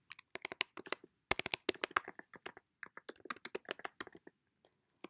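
Typing on a computer keyboard, a close, crisp run of quick irregular key clicks in bursts with short pauses, heard alone in a quiet room.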